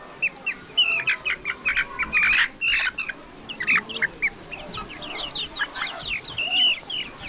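Chickens cluck and squawk nearby in a fast run of short, sharp calls, some bursts overlapping, with quieter gaps between them.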